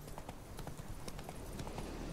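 Horse hooves trot in a steady clip-clop rhythm over a constant low background rumble, moderately close, in the video game The Witcher 3.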